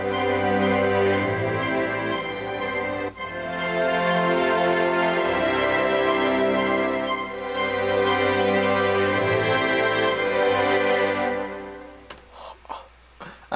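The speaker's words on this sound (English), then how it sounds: "let me just play the whole string section together" An orchestral string section plays together in a full, sustained ensemble passage with swelling dynamics, briefly dipping around the middle before thinning out and fading near the end.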